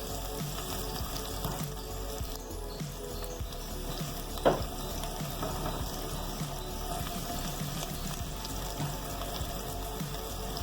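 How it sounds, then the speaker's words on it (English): Onions sauté in a pan until golden, a constant dense sizzle with a steady hiss throughout and one brief clink partway through, close and unaccompanied by speech. "Let that saute up for a little bit, just until it's slightly golden brown or golden color."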